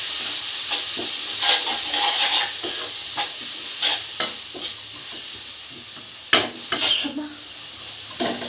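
Frying in a pan for masala egg puffs, with a continuous bright sizzle and hiss under repeated stirring scrapes and occasional sharper clatters of a spoon against the pan.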